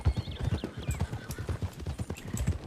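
Arabian horse hooves clip-clopping in a steady quick rhythm in a video game, close and fairly loud with faint extra sounds at times.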